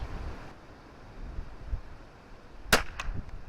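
A .22LR rifle loaded with Eley Target ammunition fires through a chronograph at 50 yards outdoors. One sharp, close crack cuts through steady wind noise, followed by a fainter echo or tap.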